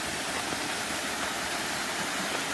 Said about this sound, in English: So we found another waterfall